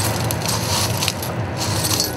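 Hot glass being dipped into crushed pieces of broken blue glass for vase-making, giving a dense, continuous crackling crunch, close and loud, with bursts of brittle clinking throughout and no talk.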